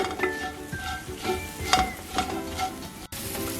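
Okra sizzles and crackles in a hot pan while a spoon stirs and scrapes against the metal in irregular strokes.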